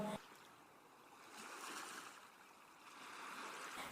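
Sea waves wash in a steady, soft rush of surf, rising and falling gently at a distance, faint and continuous with no voices over them.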